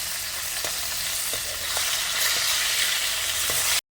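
Fried fish pieces lifted out of hot frying oil: a steady bright sizzle with a few soft clicks and scrapes, close and fairly loud, cutting off abruptly at the end with no talking.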